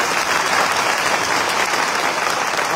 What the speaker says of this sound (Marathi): आपण मोठ्याला टाळी वाजली पाहिजे